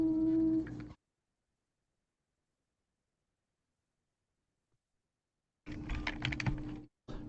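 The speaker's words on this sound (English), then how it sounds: "I'm typing to her. I'm sure you can hear me type." Typing on a computer keyboard comes as a faint burst of quick clicks and taps after a long silence, with a short humming tone before it.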